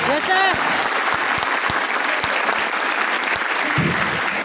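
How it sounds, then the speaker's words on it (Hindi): An audience at a school farewell gathering claps in a sustained, dense burst, with a brief whistle or voice sweeping near the start and faint murmuring underneath. "एक ताली तो बनता है ना उसके लिए"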